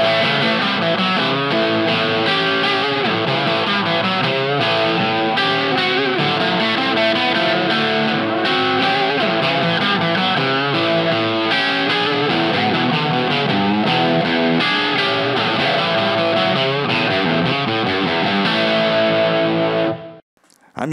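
Distorted electric guitar on the bridge and middle pickup positions, volume and tone wide open, playing a riff through several key changes for about twenty seconds, loud and continuous before stopping abruptly.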